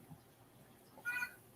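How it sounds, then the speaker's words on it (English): A cat meows once, a short, faint cry heard alone over quiet background hum. "All right, cat. I hear you."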